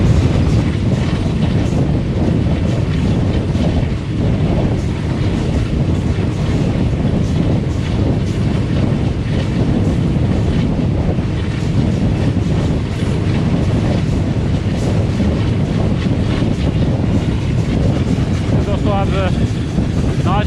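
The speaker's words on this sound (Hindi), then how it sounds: "आज आप साउंड सुन रहे हैं ZCU30 का।" A ZCU30 Chinese diesel locomotive hauls a passenger train from Bahawalpur to Lahore, heard as a steady, loud, unbroken roar of engine, wheels and rushing wind from on board, with a brief squeal near the end.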